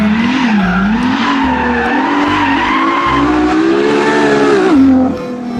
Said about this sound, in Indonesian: Selanjutnya ada mobil balap teman-teman.